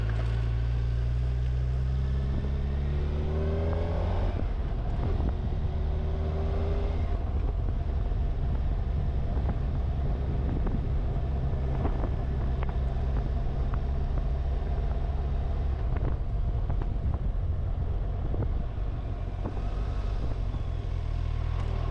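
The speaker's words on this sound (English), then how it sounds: "Beautiful bass sound of the inline four. I love the induction sound. I love the exhaust sound." A 2025 Kawasaki Ninja 1100SX inline-four engine drones deep and steady, revving up through a few quick-shifter gear changes with a throaty exhaust note, induction sound and some wind noise.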